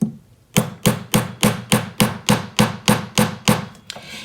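Steady rhythmic light hammer taps on a wide band metal ring, about a dozen evenly spaced sharp strikes after a brief quiet start, close and clear with no talking.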